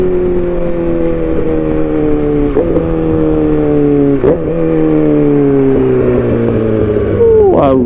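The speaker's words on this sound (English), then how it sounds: "Oh, I love that exhaust." Motorcycle exhaust growls steadily as the bike accelerates, with harmonics climbing through gear pulls and brief dips at shifts; loud and close, with no talking.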